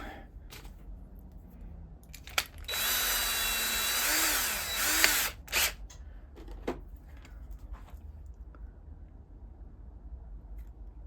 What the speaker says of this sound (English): You're drilling through plastic.